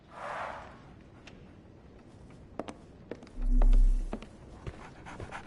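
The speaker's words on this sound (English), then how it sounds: "So, Barnes has a dog now. Who's a good boy?" A dog pants in the video game Sherlock Holmes The Awakened, a soft breathy burst at the start, then faint scattered taps and steps and a brief low hum, fairly quiet throughout.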